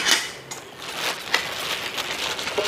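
A Fire Maple nesting camping pot and kettle are handled, giving light metallic clinks and scrapes close by, with several small knocks spread through a soft rustling background.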